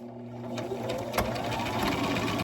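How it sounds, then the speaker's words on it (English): A sewing machine stitching an ironing board cover hums and whirs close up, with a steady mechanical rattle that speeds slightly in a short continuous run. "I'm going to give a back stitch at the beginning and at the end"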